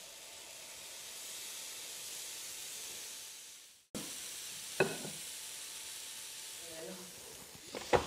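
Steady sizzling hiss of yeast-raised waffle batter cooking in a waffle iron, interrupted by a brief cut, then continuing with a few clicks and clatters nearby.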